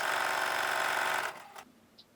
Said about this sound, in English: we're going to stitch now all the way around the rectangle, making sure that we leave a hole in one of the long sides